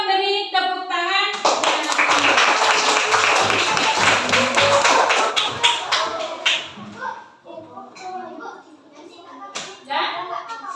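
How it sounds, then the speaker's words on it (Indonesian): Schoolchildren in a primary classroom clap together for a group that has just finished presenting its story, a dense burst of close, busy clapping that fades into scattered taps and children's chatter. "Dan kita beri tepuk tangan."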